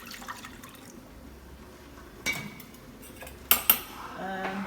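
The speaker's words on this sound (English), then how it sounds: "Now for the rasam, I'm going to add all of the tamarind water that I have here." Tamarind water poured into a pot of rasam in a home kitchen, a soft liquid trickle punctuated by a few sharp metallic clinks of utensils against the pot near the end.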